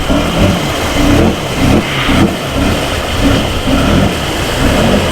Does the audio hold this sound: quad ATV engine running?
yes